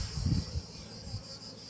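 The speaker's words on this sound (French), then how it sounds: "Et une abeille qui essaye de piquer" A honeybee buzzes close by during a hive inspection, a low droning hum that swells loudly at first and then continues more faintly as it tries to sting.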